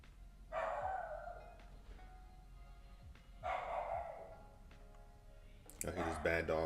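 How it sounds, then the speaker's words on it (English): A dog barks in a few separate bursts, moderately loud against a quiet room background, with a louder, sharper burst near the end. "I hear this bad dog barking."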